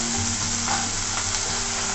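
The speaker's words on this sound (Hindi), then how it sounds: "अब हम हमारे कढ़ाई में डालेंगे आलू" Potatoes and peanuts fry in a kadhai with a dense, loud, steady sizzle while being stirred, with faint scraping underneath.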